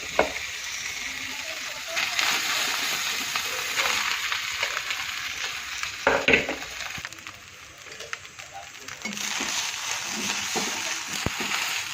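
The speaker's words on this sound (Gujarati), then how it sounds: "જો લીલા મરચાં, મીઠી લીમડી, જીરું, રઈ, હળદર ને તેલ, જો મસ્ત ભાત વઘારી કાઢ્યો" Leftover cooked rice tempered in hot oil with green chillies, curry leaves, cumin, mustard seeds and turmeric, sizzling and frying steadily up close, with occasional stirring clatter and no speech.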